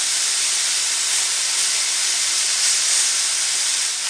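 Barbecue pork chops sizzle on a grill in a steady, loud broadband hiss that carries on without a break and with no talking over it.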